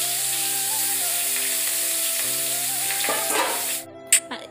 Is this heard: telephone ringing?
no